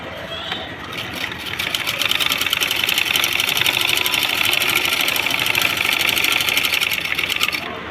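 Sewing machine stitching the folded hem of a plain blouse, a steady loud rapid mechanical whir running continuously for several seconds, close up.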